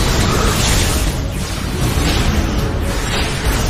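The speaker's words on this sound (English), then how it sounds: "Open fire! Photonic torpedoes and phase cannons." Photon torpedoes and phase cannons fire during a Star Trek space battle against Romulan ships, a loud, dense barrage of booming blasts and bursts that rolls on continuously.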